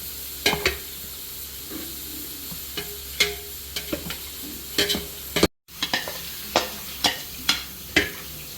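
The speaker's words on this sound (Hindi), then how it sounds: "और अच्छी तरह मिक्स करना है इसको।" Layered vegetable pulao rice stirred in a pot, a series of repeated spoon scrapes and knocks against the metal at an uneven rhythm over a low sizzle, close and fairly clear, with a brief silent gap midway.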